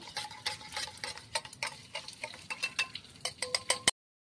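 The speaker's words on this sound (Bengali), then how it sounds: "দিয়ে এবার একটু চামচ দিয়ে নেড়ে নেব" A spoon stirs poppy seed paste mixed with salt and turmeric, making quick, rhythmic clicks and scrapes of rising loudness, close up and with no voices, before stopping abruptly.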